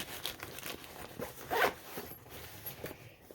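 A zipper is pulled open on a small fountain pen case, a quick series of close, dry rasping clicks with one louder zip burst in the middle, alone without talk.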